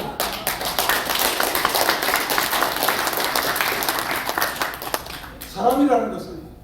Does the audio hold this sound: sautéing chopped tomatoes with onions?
no